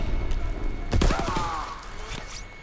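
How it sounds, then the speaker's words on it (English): A single sniper rifle shot in Call of Duty WW2 cracks loud and close around the one-second mark, a sharp broadband burst with a booming low tail, set against steady game ambience. "I just got sniped"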